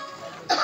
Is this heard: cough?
yes